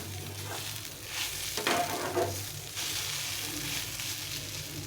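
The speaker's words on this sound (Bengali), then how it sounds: "আর কিছুক্ষণ একটু নেড়ে চেড়ে নামিয়ে দেবো।" Leftover roti pieces sizzle and fry in a pan as a tiffin snack, with a steady crackle and a few scraping stirs near the middle, close and moderately loud with no talking.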